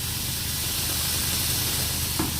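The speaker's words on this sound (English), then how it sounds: "the pan is nice and hot. I'm going to add this coconut milk in here" Coconut milk poured into a hot pan for a Thai curry, giving a steady, dense sizzling hiss that holds evenly throughout, close and fairly loud.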